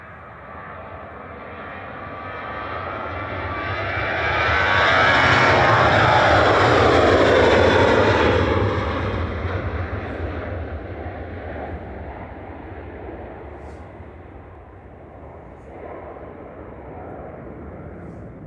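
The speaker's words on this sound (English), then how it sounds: "Sun Express touching down" A SunExpress airliner in from Antalya touches down at Manchester Airport, its engine roar swelling from a distance to a loud broad peak, then easing into a steady rumble as it rolls out.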